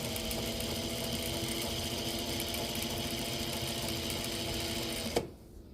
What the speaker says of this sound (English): Thank goodness for a nice fast little sewing machine to zip this binding on pretty quickly.